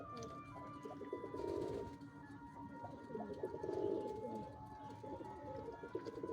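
Domestic pigeons coo softly in repeated low throaty phrases close by, with faint wing flutters and distant ambient noise around the loft.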